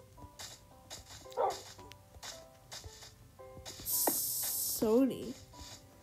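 A dog barking in a video game, a few short sharp barks and a yip amid clicking game effects, with a brief hiss and a person talking intermittently.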